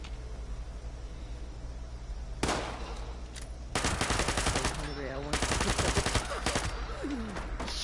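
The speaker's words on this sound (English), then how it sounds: "Shooting at people I know." Fallout 76 gunfire erupts in rapid automatic bursts, sharp cracks and rattling volleys building from sporadic shots into sustained fire over a steady background hum, with no speech.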